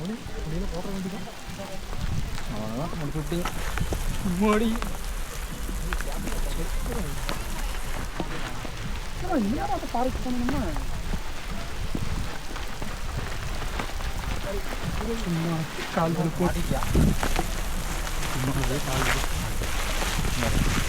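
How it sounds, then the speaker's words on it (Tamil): Steady rain falls during a long forest trek to Perumal Mudi, a dense continuous patter under frequent nearby talking voices throughout. "நம்ம நினச்ச மாதிரியே மழை வந்துருச்சு மக்கா"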